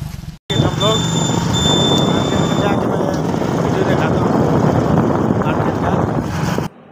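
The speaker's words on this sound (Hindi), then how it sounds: "देखिए दोस्तों भैया बाइक लेके निकल गए हैं हम लोग" A motorbike rides off carrying its riders, a loud, continuous roar of engine and rushing wind that starts abruptly and holds steady throughout, with talk buried in it.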